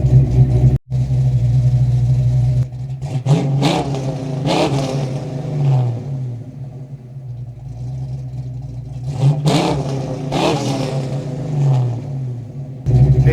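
A Fox Body Mustang fitted with FlowMaster mufflers idles with a loud, deep exhaust rumble, then revs up sharply several times, each rev climbing and falling back to idle, heard close with no talking.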